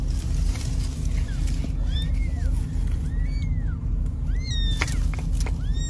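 Kittens stuck in a storm drain in Bountiful, Utah, give several thin, rising meows that echo close by over a steady low rumble of traffic or drain noise, with no one speaking.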